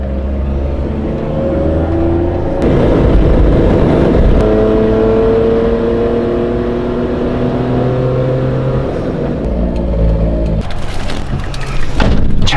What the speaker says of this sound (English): a Slam Miata just drove in front of us